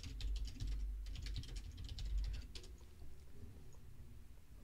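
Soft clicking keystrokes on a computer keyboard come in quick irregular bursts over a low steady hum, faint and close, thinning out toward the end, with no talking.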